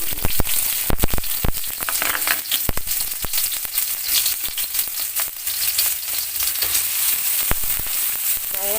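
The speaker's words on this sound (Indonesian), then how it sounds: "sekarang saya mau goreng bawangnya." Shallots and garlic frying in a pan give a steady, close crackling sizzle with sharp pops and stirring scrapes scattered throughout, no voices.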